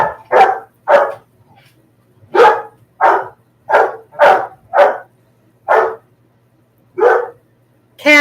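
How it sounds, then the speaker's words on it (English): Puppies bark in a rapid series of about a dozen sharp, loud yaps, close by, with short pauses between them and a faint low hum underneath. "Puppies!"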